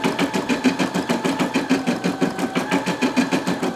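A Brother Disney PE550D embroidery machine stitches a design onto terry cloth, its needle hammering in a fast, even rhythm with a steady motor hum, close and fairly loud, with no talking.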